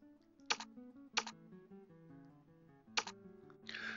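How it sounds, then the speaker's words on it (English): A few sharp, separate key presses on a computer keyboard used to tune a radio receiver, spaced unevenly over soft steady tones, quiet overall with no talking. "we can scan the band by holding down the up arrow key and use the keyboard auto repeat function"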